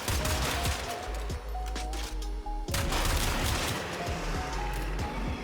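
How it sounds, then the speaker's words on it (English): Rapid gunfire in the video game Warframe, including the Kuva Drakgoon shotgun, with loud close repeated shots and a few sharp bursts over a continuous background rumble. "the Kuva / Dragoon, which of course is a shotgun"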